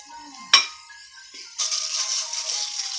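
Garlic, ginger and baby carrots browning in a pot for a chicken and vegetable rice soup: a single metal clink from a utensil, then a steady, fairly quiet sizzle that starts partway through and keeps going with no talk.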